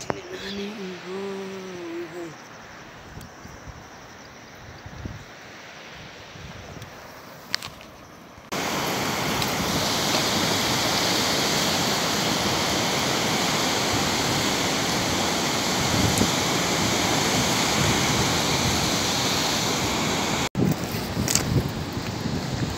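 The Karnali river flowing in rural Nepal, a loud steady broadband rush of water that starts abruptly after a quieter opening with faint voices and continues unbroken to the end.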